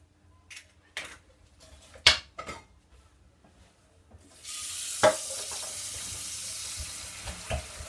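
An egg is worked into chocolate fondant batter, with scattered clicks and taps followed by a steady, hissing wet churn of mixing that runs to the end, close up and without speech.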